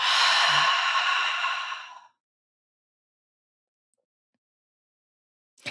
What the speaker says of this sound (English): So we're going to breathe in and we're going to breathe out.